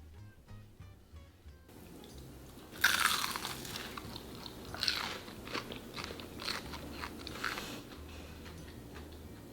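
Crispy fried shrimp spring rolls are bitten into, giving a loud crackling crunch at the first bite followed by several softer crunches and chewing sounds, close up with no talk.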